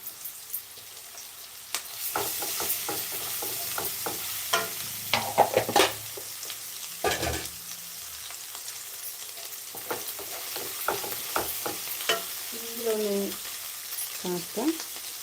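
Ginger paste fries in a pan for an eggplant curry, with a soft steady sizzle broken by repeated close scraping strokes of a spoon stirring at an uneven rhythm.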